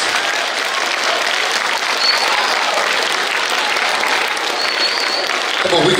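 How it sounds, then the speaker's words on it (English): A large audience breaks into loud, dense applause for teachers, a principal, officers and a chief at a leadership gathering, sustained and close for several seconds, with a few faint cheers mixed in. "round of applause"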